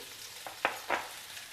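Boiled, peeled baby potatoes going into a hot pan with spices set off a soft, steady sizzle, with two or three brief louder bursts as they hit the oil and are stirred.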